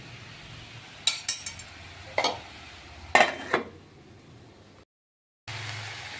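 Chickpea and bathua greens cooking down in a pan for shaker ghanto are stirred with a utensil, producing a few sharp metallic scrapes and clinks over a faint sizzle, then a brief silence before the low hiss returns.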